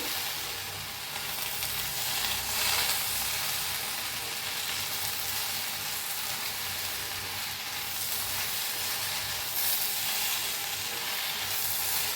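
Crushed peanuts being stirred into okra masala frying in a pan, giving a steady, continuous sizzle and hiss with soft scraping throughout, recorded close with no talking.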